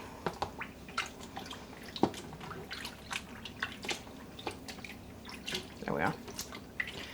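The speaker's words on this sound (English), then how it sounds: "I'm just adding in the yarn. Just squeezing it down to make sure it gets" Wet yarn squished and pressed down into a tub of soaking water, with soft squelches, drips and small splashes in an irregular rhythm, close by, under occasional quiet speech.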